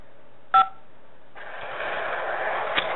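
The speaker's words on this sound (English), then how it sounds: "Hang up to decline the call or to accept. Dial 5 now." A single short telephone keypad DTMF tone dialed to accept a call, clear and close, followed by a steady hiss of phone line noise.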